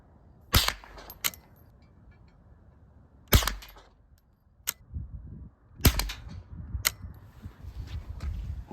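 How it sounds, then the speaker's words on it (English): Several sharp, close cracks from a Springfield 87A .22 rifle fired at a 25-yard target on a range, spaced a few seconds apart, with faint handling noise between shots. "We're just going to take a few shots and go check the point of impact and see if the sights need to be adjusted."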